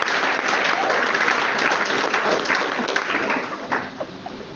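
Church congregation claps and cheers in sustained applause filling the room, fading slightly toward the end, with scattered voices mixed in.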